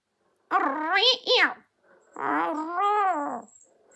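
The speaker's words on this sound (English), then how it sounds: "Oh, kitty. Meow." Two long, wavering meows, close and fairly loud, separated by a brief pause.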